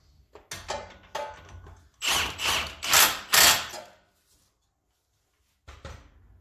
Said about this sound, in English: I'm not going to worry about overdoing it with the torque wrench really